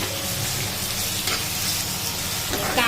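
Onion and tomato frying in a pan for a Marathi ragda pattice recipe hiss and sizzle steadily and loudly up close, with faint stirring through it.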